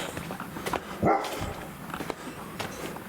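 A single dog barks once at moderate distance during a trailer build outdoors, a short sharp burst standing out over low background noise.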